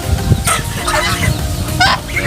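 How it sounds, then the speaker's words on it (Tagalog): Pet ducks being fed, giving several loud honking, quacking calls up close over a steady rustle of movement, with no voices. "share ko lang sa inyo ang ating munting pagpapakain sa mga alaga nating bibi"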